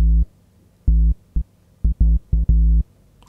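A deep, basic sine-like sub bass from Logic Pro Alchemy plays a short rhythmic phrase of punchy low notes, some held and some clipped, alone and fairly loud.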